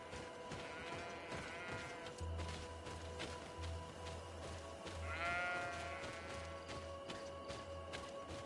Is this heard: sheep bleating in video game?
yes